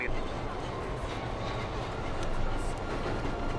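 A train rumbling steadily along the tracks with a continuous rattling roar, fairly close and constant, with faint talk underneath.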